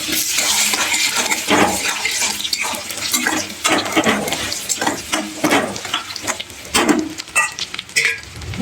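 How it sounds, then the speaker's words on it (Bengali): Potato pieces fry in hot oil with bay leaf and a dried red chilli, giving a loud, continuous sizzle. Scraping stirring strokes break in repeatedly, with no talking. "আমি আলুগুলো ভেজে নেবো।"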